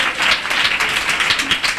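A church congregation claps along together, a dense, steady patter of many hands at close range with no voices over it.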